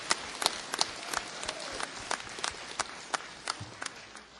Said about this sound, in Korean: 우리의 지도자들에게 힘찬 용기의 박수를 부탁드리겠습니다